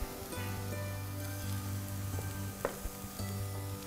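Carrot and onion sizzle in a pan for Korean spicy fried rice, a soft, even hiss with a low steady hum under it and a couple of light clicks from a spoon or spatula, close but quiet.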